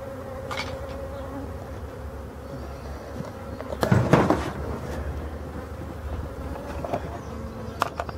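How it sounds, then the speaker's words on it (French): A forest bee swarm buzzes steadily at a hive during frame handling, a dense continuous insect drone throughout with a louder close burst of buzzing and knocks near the middle. "C'est un essaim de la forêt."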